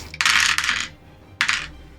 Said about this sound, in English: I'll go ahead and roll the 8d6 just because I've already got the dice handy